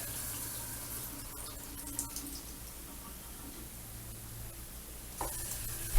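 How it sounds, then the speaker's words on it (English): Water running from a faucet in a lodge bathroom fed by a shallow well pump, a steady hiss of flow into a sink, moderately close, with a few clunks and a louder gush near the end. "we've got a working faucet"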